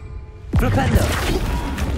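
A Flipendo spell lands in the video game Hogwarts Legacy. A sudden loud whooshing thump comes after a brief quiet lead-in, then a rumbling, clattering tail.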